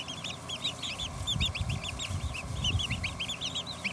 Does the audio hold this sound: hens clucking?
yes